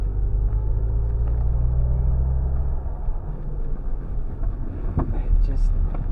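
An MG Cyberster all-wheel-drive sports car climbing mountain switchbacks, heard from inside as a low continuous rumble of motor and road noise with wind buffeting and a few faint thumps near the end.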